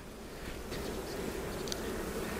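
Honey bees humming steadily around an open hive frame while a new colony split is being made, a soft continuous buzz close by with a few brief higher-pitched whines, and no one speaking.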